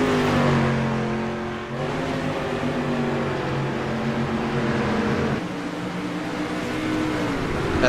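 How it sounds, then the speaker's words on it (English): Street stock race cars roar around a dirt oval at Volusia, several engines droning and revving together in a loud, continuous pack with a brief dip as they pass. "See the cars all over the track right now."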